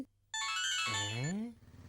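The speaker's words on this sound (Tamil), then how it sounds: "ஃபோன் அடிக்குதே" A phone ringtone in a Tamil TV serial plays as a melodic electronic tune that sustains for about a second, then slides in pitch as it fades, with a short silence before it starts.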